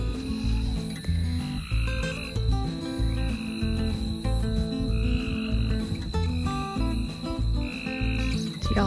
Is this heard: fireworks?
no